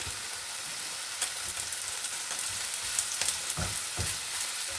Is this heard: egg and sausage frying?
yes